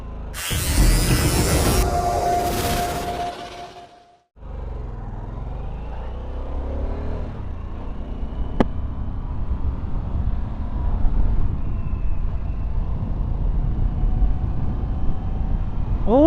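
A Harley-Davidson Sportster S motorcycle rides along a road. After a brief gap, a continuous low engine rumble mixes with wind noise and holds steady throughout.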